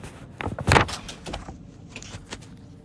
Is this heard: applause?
no